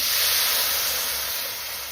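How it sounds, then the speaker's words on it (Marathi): Buttermilk poured into a hot turmeric tempering for village-style kadhi on a wood stove gives a loud, continuous hissing sizzle that holds steady up close. "आता आपण त्याच्यामध्ये ताक ओतून घेऊ"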